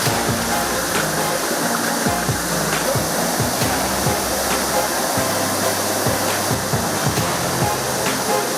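Surlabbi waterfall near Madikeri, a long fall running 250 to 300 metres, roars in a steady, loud, dense rush of water heard close by and unbroken throughout.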